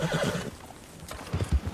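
A horse in an outlaw-themed video game gives a loud, close whinny at the start, followed by a short pause and then snorting and hoof clops toward the end.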